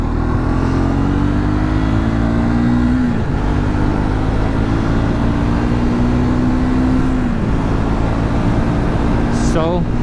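An adventure motorcycle, either a Royal Enfield Himalayan 450 or a Triumph Scrambler 400X, pulls hard at high speed through the gears, its engine note rising steadily and dropping at each shift under loud wind rush, with the rider talking.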